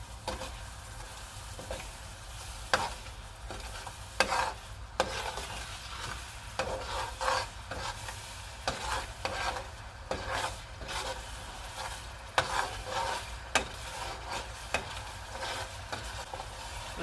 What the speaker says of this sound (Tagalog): Let it simmer or boil for another minute